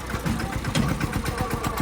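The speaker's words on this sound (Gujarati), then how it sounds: "નાનું ટ્રેક્ટર તો હાલતું છે નહીં, એકદમ ધીરું ધીરું હાલે છે" A small tractor engine chugs slowly in a farm field with a steady, low, rhythmic putter at moderate distance and no talk over it.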